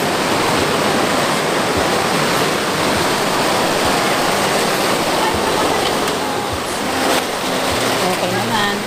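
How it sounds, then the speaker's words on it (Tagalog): Steady, dense rain roars continuously with a hissing wash of water, heavy and close, with no breaks. "Parang lumalakas ang ulan"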